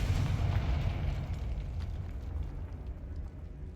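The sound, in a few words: Confringo spell blast in Hogwarts Legacy video game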